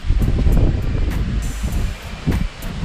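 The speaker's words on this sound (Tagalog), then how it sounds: "Lakas na ng hangin." Strong gusty wind buffets the microphone, a rough low rumble with bursts of rustling leaves and occasional sharp crackles.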